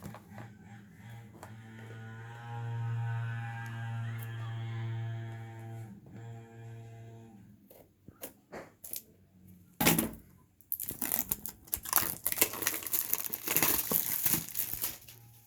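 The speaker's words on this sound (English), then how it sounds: "let me just take my scissors and cut the box open" Scissors slice open the box of a Samsung Galaxy Note 10, with crinkly snips and tearing crackles starting after a quiet hum and continuing in close, uneven bursts.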